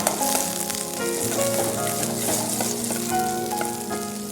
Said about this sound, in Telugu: ఆనియన్స్ వేసుకోవాలండి. వేసి ఒకసారి సాతే చేయాలి.